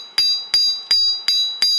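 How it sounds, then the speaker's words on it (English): Five light, evenly spaced metallic taps of a hammer on a wire heart charm laid against pavement, each a sharp ringing click with a short decay, close and clear with no talk. "you can just lightly hammer it"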